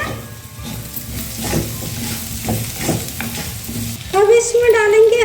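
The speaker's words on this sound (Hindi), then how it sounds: "फिर से चला लेते हैं।" A spoon stirs spiced jeera aloo, potatoes with cumin, in a frying pan, with a steady sizzle and scraping strokes, rising to a louder, brighter burst near the end.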